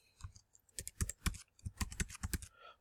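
Close, crisp keystrokes on a computer keyboard while port names are entered in Robot C, a quick uneven burst of clicks with a brief pause in the middle, no voices.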